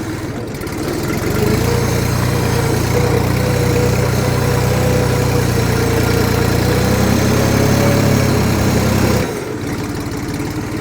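A Jinma 3244 HXRN mini tractor engine revs up from idle and holds a loud, steady, droning roar for several seconds, then drops back toward idle near the end.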